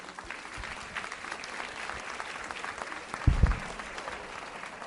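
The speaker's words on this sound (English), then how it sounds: "We clap for the students." Audience applause for students at a school education summit, steady clapping from a sizeable crowd filling the room, with a brief louder burst near the end.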